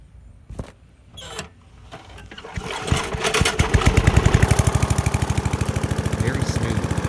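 A 1986 Snapper push mower's small engine is pulled over, catches and settles into a steady low idle with the throttle all the way down, a rapid even putter close by after a few starting clunks.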